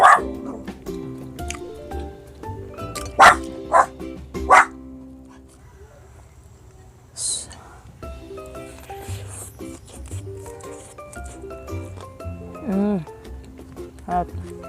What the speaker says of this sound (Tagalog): Ang aso ko tumatahol.